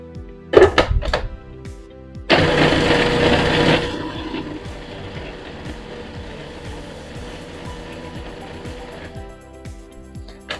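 Fresh herbs ground in a blender for green goddess dressing: a sharp thunk, then a loud burst of whirring that settles into a steadier, quieter grinding hum with faint rhythmic ticks before stopping.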